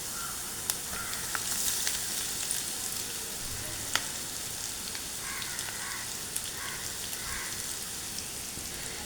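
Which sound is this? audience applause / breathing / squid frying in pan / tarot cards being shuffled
squid frying in pan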